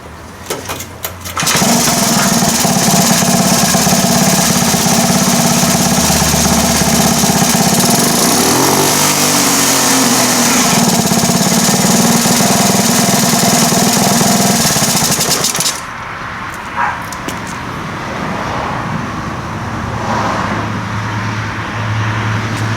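A 1978 Indian moped with an original carburetor, its small engine buzzing loudly and steadily at high revs for about fourteen seconds, then dropping to a quieter, rougher idle.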